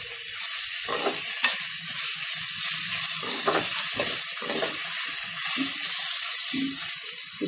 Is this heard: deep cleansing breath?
no